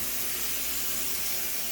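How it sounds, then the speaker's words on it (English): A kitchen sink tap runs hot water in a steady, even hiss of flowing water, close and alone, with no change across the stretch. "I'm gonna go ahead and check the hot water while we're here."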